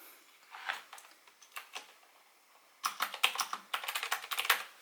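Typing on an Azio Retro Classic Bluetooth keyboard: sparse, crisp key clicks at first, then a quick burst of rapid, close clacking keystrokes.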